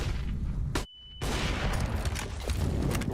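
Dense, loud gunfire from a CS:GO match in the ESL Pro League, rapid continuous bursts filling the whole stretch with one short gap of near silence before the shooting resumes.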